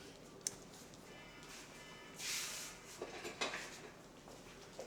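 Metal cutlery clatters briefly as a spoon is fetched in a home kitchen during chocolate cake baking, a few light clinks and a short rustling rummage, close and quiet.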